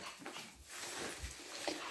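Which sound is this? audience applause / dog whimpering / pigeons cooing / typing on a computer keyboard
dog whimpering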